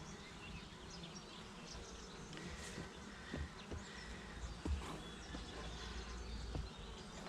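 Honey bees on a hive frame with emerging brood hum in a dense, continuous buzz, close and steady, with faint clicks and knocks from handling underneath.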